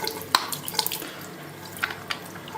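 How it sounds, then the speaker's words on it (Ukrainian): Clean water trickles and drips from the pressure relief valve of a Junkers gas boiler, a faint close flow with a few sharp drip splashes scattered across a few seconds. "У мене зараз вже чиста водичка тече."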